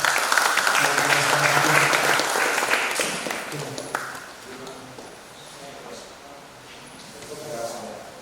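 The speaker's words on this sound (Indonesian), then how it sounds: "Tepuk tangan dulu untuk Mas Sambas" Audience applause breaks out for Mas Sambas at a youth organisation coordination meeting, a loud burst of clapping that slowly fades to scattered claps while people talk over it.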